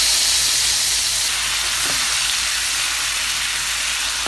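Minced garlic sizzles in two tablespoons of melted butter in a pan, a loud, steady hissing fry that stays constant throughout with no talking.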